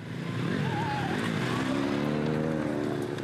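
A motorcycle towing sleds across a frozen city pond drones steadily with shifting engine pitch as it revs and turns, with voices and outdoor noise mixed in.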